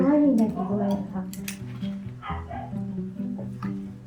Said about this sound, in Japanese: どちらのワンちゃんでしょうか。